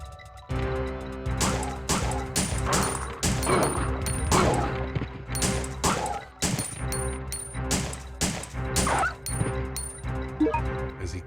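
Dogs bark repeatedly in the survival horror game Resident Evil Survivor, a series of sharp, loud barks and crashing hits in quick irregular bursts with short gaps, mixed with game sounds.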